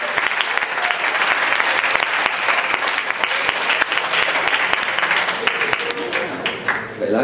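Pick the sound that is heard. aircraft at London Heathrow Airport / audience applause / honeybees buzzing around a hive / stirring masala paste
audience applause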